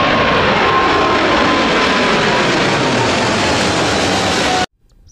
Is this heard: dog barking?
no